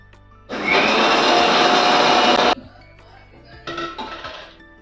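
A mixer grinder grinds roasted poppy seeds and coconut with a little water for gasagase payasa, giving a loud, harsh whirring burst of about two seconds, then a quieter pause and a second, shorter pulse.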